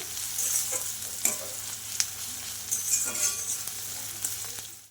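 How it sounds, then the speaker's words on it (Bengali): Onions fry in a pan at low gas heat for a lentil dish, a continuous close sizzle with a few sharp clicks and scrapes from stirring, and no talking. "পেঁয়াজটা একটু ভালো করে ভেজে নিতে হবে"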